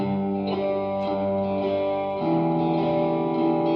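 Electric guitar played through an amp at volume 9 with no delay or reverb, sustained chords ringing steadily and loud, with a few changes in the voicing and no talking.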